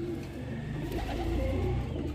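Pigeons cooing, birds bought from Karachi nets, give a soft, low, rolling coo that repeats steadily and close by, with a faint background hum and no talk.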